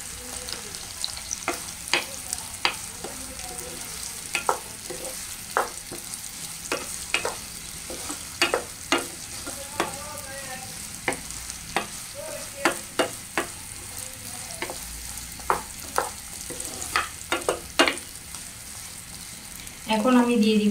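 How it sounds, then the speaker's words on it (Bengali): Onions frying gently in a pan, a soft steady sizzle under regular sharp clicks and scrapes of a spoon stirring against the metal, heard close and fairly quiet. "আমি এখন পেঁয়াজগুলো একটু হালকা করে ভেজে নিব।"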